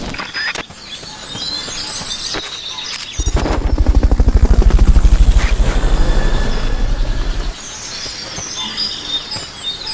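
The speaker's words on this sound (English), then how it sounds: "Fulton recovery subject confirmed onboard helicopter." A Fulton recovery helicopter in the video game Metal Gear Solid Peace Walker approaches with a loud, rapid rotor thump that peaks and then fades away, surrounded by soft ambient chirps.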